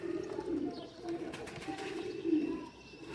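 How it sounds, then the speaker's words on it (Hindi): Teddy-breed pigeons cooing steadily in a loft, several soft throaty coos overlapping at close range with no voices, a faint background hiss throughout. "माशाल्लाह बहुत प्यारे कबूतर हैं"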